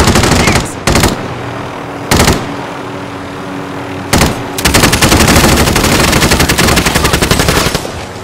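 Rapid automatic gunfire in a battle-royale shooter game, several short loud bursts followed by a long sustained stream of close, repeated shots.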